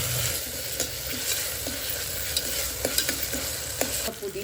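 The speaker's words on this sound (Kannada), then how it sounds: "ಅದನ್ನು ಮಿಕ್ಸ್ ಮಾಡ್ಕೊಂಡ್ಬಿಡೋಣ" Tomato with ginger garlic paste stirred in a frying pan, a steady soft sizzle broken by repeated spoon scrapes at an even pace, close and alone.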